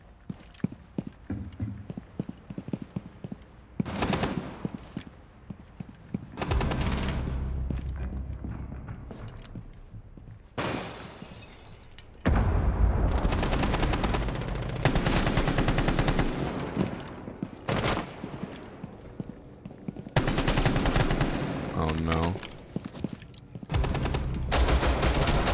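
Video game gunfire rings out in repeated bursts and volleys over a loud, continuous game soundscape with hoofbeat-like thumps, filling most of the stretch with dense, close shooting.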